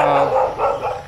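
A white dog barking in a few quick, close, loud woofs that run together over about a second, with no talk.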